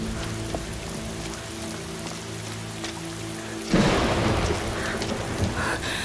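A thunderstorm brings rain over a palace courtyard, with a steady wash of rain and a low rumble, then a louder burst of thunder partway through over the rain.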